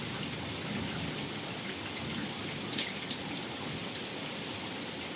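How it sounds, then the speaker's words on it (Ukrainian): Steady rain falls continuously, a dense hiss of drops with a few sharper drips standing out, no voices. "Дощик, дощик, дощик. Гарний наш дощик."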